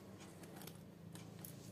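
Small scissors snip the tag off a new fabric chest bag for a phone, giving a few quiet, crisp clicks spaced apart over faint room background.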